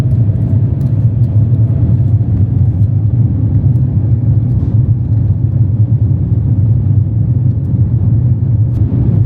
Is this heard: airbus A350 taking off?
yes